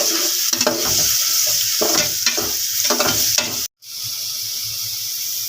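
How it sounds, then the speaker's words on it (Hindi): Garlic paste hits browned onions in a hot pan, giving a loud, steady sizzle with repeated stirring scrapes, a brief gap near the end, then the frying sizzle carrying on alone. "अब इसमें लहसुन का पेस्ट ऐड करती हूँ"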